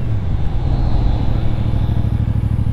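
A 2024 CFMOTO 450CL-C motorcycle slowing under combined braking, its engine note a steady low throb with a faint rhythmic pulse as it decelerates, close and fairly loud with no voices.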